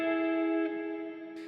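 Chapman Stick played through delay, reverb and an amp simulator for a bright tone, a long sustained chord ringing with rich harmonics, slowly decaying with a faint new attack near the end.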